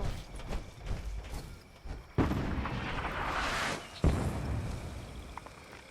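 Artillery barrage in the Fallout 76 video game, with two sharp heavy blasts a couple of seconds apart, each followed by rumbling echo, over a restless background of distant thuds and mechanical noise.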